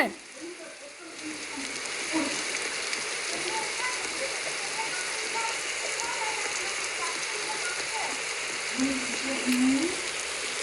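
Rain falls in an even, steady patter with a soft hiss and scattered droplet ticks, fairly faint and constant throughout.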